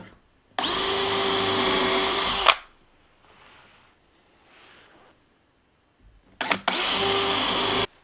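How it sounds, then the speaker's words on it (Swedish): A power drill bores into a piece of ash wood in two loud, steady bursts, a long run of about two seconds and then a shorter one, separated by quiet handling noises. "Jag börjar med att ställa in hur djupt jag ska borra."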